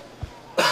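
A single short, sharp cough sounds up close near the end, after a brief quiet stretch, during play of an Aztec civilization strategy game.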